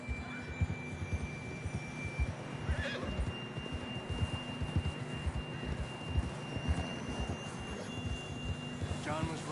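A horse neighs in the video game Red Dead Redemption 2, a brief whinny around the middle and another near the end, set against hoof clip-clops, a faint steady tone and other game sounds.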